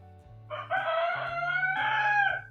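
A chicken crows nearby in a drawn-out, two-part call over a low steady background hum, clear and moderately loud with no talking.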